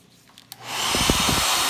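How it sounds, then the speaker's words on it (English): A hair dryer switches on and blows steadily, a loud continuous rushing whoosh that starts after a couple of faint taps and runs alone to the end. "Always the hair dryer. Always the hair dryer."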